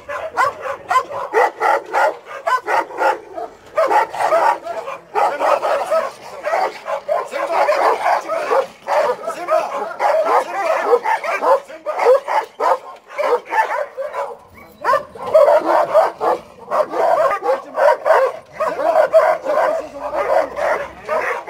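A Caucasian shepherd dog barks loudly and close, in rapid repeated bursts with short yips and whimpers between them, going almost without pause for the whole stretch while someone talks in the background.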